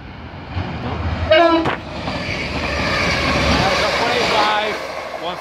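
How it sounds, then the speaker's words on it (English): A passenger train passes through Ferriby station, giving a short horn blast early on, then a loud, steady rail rumble and wheel noise that swells and holds close by. "Got the next service coming through Ferriby here."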